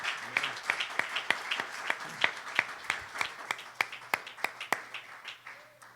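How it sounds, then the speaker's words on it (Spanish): A church congregation claps in applause at an evangelistic service: a steady run of sharp, distinct claps spread over several seconds, moderately loud in a reverberant room, with no talking. "no está de más que les demos un aplauso en esta tarde"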